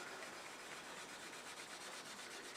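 Steel wool rubs over a fire-treated ash wood bowl in a continuous, even scratchy hiss with faint rhythmic strokes, close by and quiet, with no talk.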